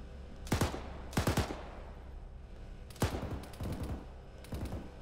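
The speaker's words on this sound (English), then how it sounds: "Where's that other machine gun coming from?" Bursts of machine gun fire ring out in a tactical military shooter, several short rapid volleys spread across the span, loud and fairly close, each a tight cluster of cracks with brief gaps between.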